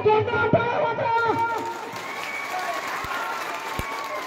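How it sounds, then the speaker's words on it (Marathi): A large crowd at an outdoor political rally claps loudly and steadily for several seconds, dense applause blended with voices and amplified sound. "सर्वांनी जोरदार टाळ्या वाजवा."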